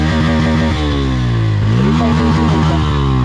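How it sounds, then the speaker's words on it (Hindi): A Bajaj Pulsar N160 motorcycle engine idles and revs up close, a smooth throbbing drone that rises and falls in pitch, with no talking. "फिर से एन वन सिक्सटी की आवाज़ जो कि बहुत स्मूथ है"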